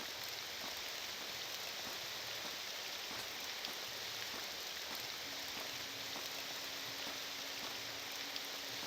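Steady rain falls in Morrowind, a soft continuous hiss of drops with no clear individual hits, moderately quiet, with a faint low tone entering partway through and no voices.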